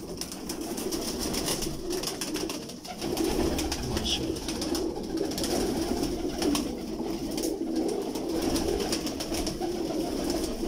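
Shikra breed pigeons coo softly and continuously nearby, a low murmuring layer of calls with no voices over it.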